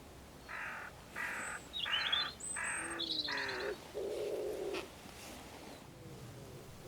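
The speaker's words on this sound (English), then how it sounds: "I can hear a hooded crow in the background" A hooded crow caws several times in short harsh bursts, fairly distant and outdoors, with a smaller bird chirping faintly between the calls.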